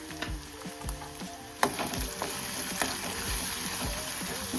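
Curry leaves hit hot oil for a liver recipe with a sudden loud crackle, settling into a steady close sizzle punctuated by dull knocks of a pan or utensil.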